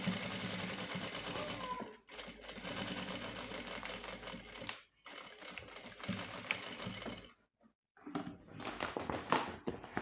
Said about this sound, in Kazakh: Енді осы астыңғы қатарды тағы да айналдырып тігіп шығамын.